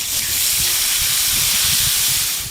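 Water hits hot oil holding white sesame seeds and chili flakes. It gives a loud, continuous hiss of steam and spatter that stays strong to the end.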